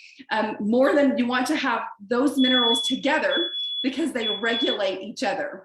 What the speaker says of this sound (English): that's my smoke alarm going off